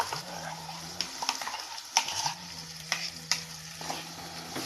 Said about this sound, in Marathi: थोडंसं परतून घ्यायचं आणि आता वाटलेलं त्यात टाकून घ्यायचं.